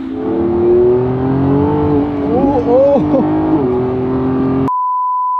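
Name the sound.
car speeding around a private race track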